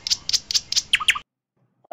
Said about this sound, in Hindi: अरे, ये आवाज तो सियानी मैना की है। लगता है वो किसी खतरे में है।